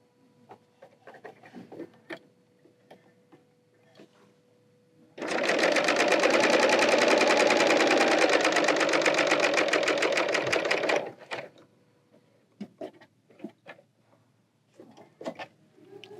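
Bernina L890 serger overlocking fabric: a steady, loud mechanical whir with fast rhythmic needle chatter running for about six seconds, framed by quieter handling clicks and rustles of fabric before and after.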